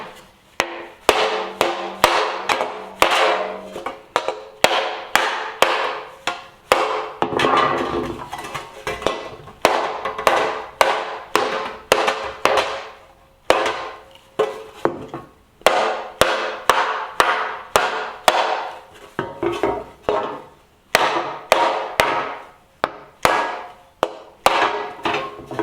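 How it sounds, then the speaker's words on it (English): Sharp metallic hammer blows strike repeatedly in quick, uneven bursts with brief pauses, loud and close, ringing slightly on a thin solid copper sheet being worked in repoussé. "just whack them a little bit in the main part of the design with the hammer"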